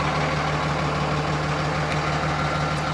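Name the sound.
Cummins diesel pickup truck engine starting and idling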